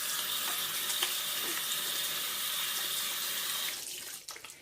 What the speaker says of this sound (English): So I like to rinse twice just in case.